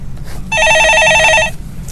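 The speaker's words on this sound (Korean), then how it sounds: "전화 받아보겠습니다" A telephone rings once with a bright electronic warble lasting about a second, clear and close, set against a quiet studio background on a Korean stock-market call-in program.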